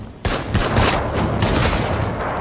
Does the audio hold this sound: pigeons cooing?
no